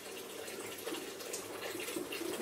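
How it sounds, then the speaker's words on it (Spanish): Water running steadily from a tap, a faint continuous hiss and splash with no talking over it. "Ahora me voy a ir a buscar agua, que la tengo andando"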